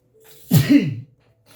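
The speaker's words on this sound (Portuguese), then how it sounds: "Espera que eu vou espirrar" A single sharp sneeze, close and loud, with a brief intake of breath before it and quiet afterward.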